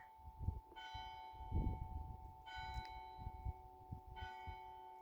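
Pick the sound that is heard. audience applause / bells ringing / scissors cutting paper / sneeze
bells ringing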